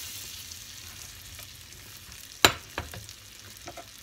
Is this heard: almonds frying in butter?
yes